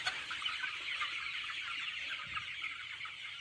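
Young chickens, nine days old, cluck and cheep continuously inside a small poultry shed, a dense and steady chorus of many birds at moderate distance with no one speaking.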